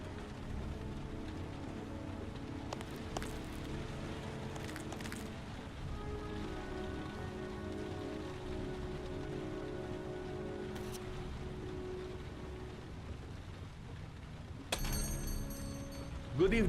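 Steady rain hisses throughout a night scene in the video game Heavy Rain, a continuous close wash of falling drops with faint mechanical sounds and a sharp clatter near the end.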